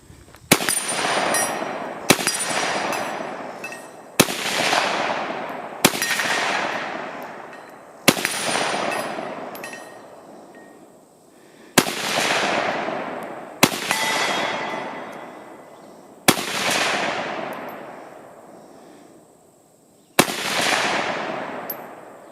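Yugo SKS rifle firing 7.62x39 rounds outdoors, about ten loud, sharp single shots spaced one to four seconds apart, each followed by a long echoing decay.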